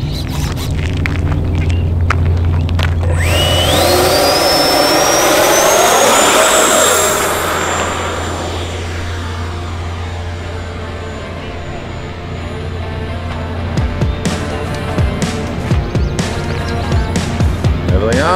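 A Yak-130 RC model jet flies past at full speed, its turbine whine rising sharply and loudly as it sweeps close, then fading into a steady distant drone before growing again.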